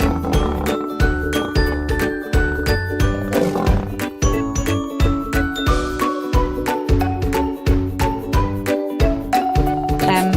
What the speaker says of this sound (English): L is for lion.